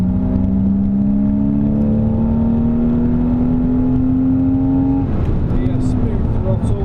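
A race car engine accelerating out of a corner at Silverstone, a loud, close in-car drone rising steadily in pitch for several seconds before a gear change, with a voice speaking over it.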